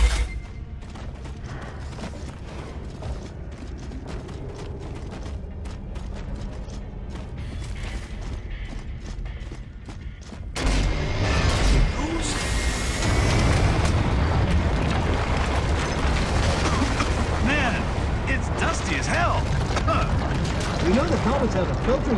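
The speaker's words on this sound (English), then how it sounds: "that grind lift should be operational now. Thanks, Control. How fortuitous. All right, let's give this lift a shove." A grind lift shoved into motion in Gears of War 2 starts a loud mechanical rumble and grinding with creaks and booms, continuing steadily after a quieter stretch of game ambience.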